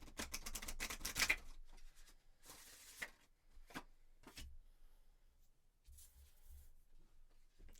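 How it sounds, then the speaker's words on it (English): Tarot cards are shuffled by hand in quick riffling bursts, a dense flurry of crisp flicks at first, then scattered softer slides and taps, close and quiet with no talk. "I'm just going to shuffle a few more times"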